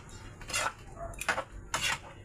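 Squid adobo stirred in a pan: three distinct scraping strokes of a utensil against the pan, spaced about half a second apart, fairly quiet and close, with no speech.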